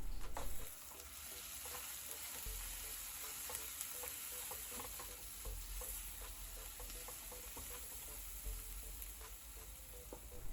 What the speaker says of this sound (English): Add in the garlic and ginger paste, stir through and fry for 30 seconds.